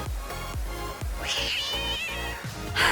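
A cat meows repeatedly, several short rising and falling calls close by with a slightly whiny, drawn-out tone.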